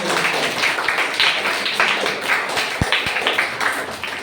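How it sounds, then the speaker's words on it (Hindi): An audience applauds a student who earned the highest marks among 25 in a competitive exam, a steady dense clatter of many hands with a couple of sharp low thumps near the end. "एक बार और जोरदार तालियां"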